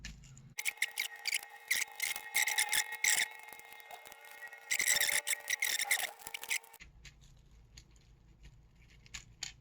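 Plastic shell of a Jungle Green N64 controller being pried and pulled apart by hand, a run of close scraping and rubbing bursts followed by quieter handling noise, no talking.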